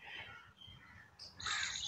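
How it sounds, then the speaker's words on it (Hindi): Crows cawing in a rose garden near IIT Delhi in Hauz Khas, several harsh calls, one fading and then a louder burst of overlapping caws at moderate distance outdoors. "यहाँ पे क्रो भी इस मौसम में यहाँ जो छाया है उसका भी आनंद ले रहे हैं और कुछ खा भी रहे हैं।"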